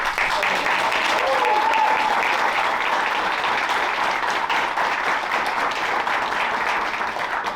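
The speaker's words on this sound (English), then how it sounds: "please give a big round of applause to all of the people that" Sustained audience applause for the supporters of graduates at a demo day, loud, dense and even clapping from a large crowd throughout, with a faint voice in the background.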